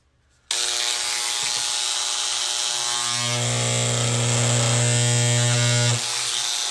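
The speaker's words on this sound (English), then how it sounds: "I can take my Dremel." A Dremel rotary tool grinds a layered bracer, starting abruptly with a loud, steady high-pitched whine that drops in pitch as it bites into the material, running continuously up close with no talk.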